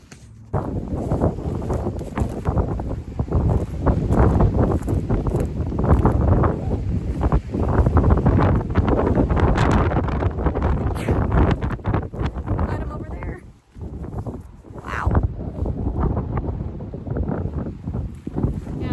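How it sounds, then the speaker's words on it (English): Strong wind roars steadily through trees on a cool evening along a hiking trail, a loud, gusting rush close to the microphone with a brief lull partway through. "Some good wind. I'm sure you can hear it."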